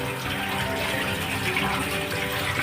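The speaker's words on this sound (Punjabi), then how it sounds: "ਆਓ ਆਪਾਂ ਇਹਨਾਂ ਨੂੰ ਵਾਸ਼ ਕਰਦੇ ਹਾਂ ਚੰਗੀ ਤਰ੍ਹਾਂ ਵਾਸ਼ ਕਰਨਾ ਮਿਰਚਾਂ ਨੂੰ" Tap water runs steadily over green chillies being washed for baingan bharta, a close, continuous splashing gush with no pauses and no talking.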